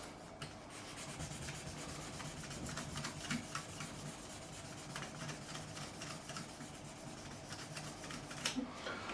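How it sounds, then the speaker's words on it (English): Wet sanding of guitar frets on a PRS SE Standard 24 with 2000 grit wet sandpaper, a steady close soft rubbing rasp of short repeated strokes, continuous and fairly quiet throughout. "I've actually wet the sandpaper there. And the 2000 grit, final grit."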